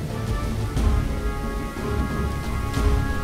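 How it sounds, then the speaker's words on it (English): Rain falls steadily in the adventure video game Lost Horizon, a continuous dense patter with soft low rumbling underneath and faint pulses of background music, with no voices. "If it doesn't stop raining, this barrel is going to overflow."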